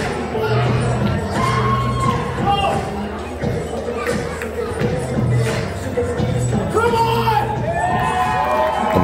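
Crowd at a wrestling show in Warsaw, Missouri, cheering, whooping and shouting continuously throughout, loud and lively, with a commentator talking over the noise.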